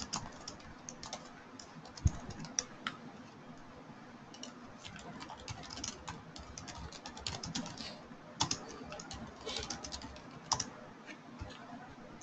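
Steady, quiet clatter of someone typing code on a computer keyboard, with irregular bursts of keystrokes over faint background hum and no voices.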